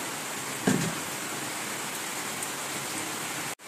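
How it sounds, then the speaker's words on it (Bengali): Steady rain pours down in a continuous broadband hiss, with a brief louder splash near the start, no voices, and a sudden cutoff just before the end. "দেখো এখন বৃষ্টিটা একটু কম হয়ে গেছে"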